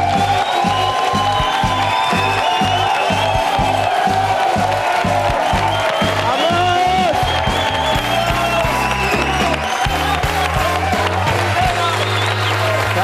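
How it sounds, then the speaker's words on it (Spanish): A large live audience applauds and cheers for Kiko Rivera at the start of his stand-up monologue, dense loud clapping mixed with crowd noise, sustained throughout without a break. "Señoras, señores, pido un fortísimo aplauso para Kiko Rivera."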